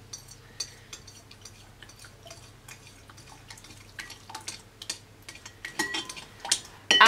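Hot gelatin being poured into oil while the mixture is stirred to make a cheap homemade biodiesel, with scattered soft clinks, scrapes and drips of mixing that grow louder toward the end.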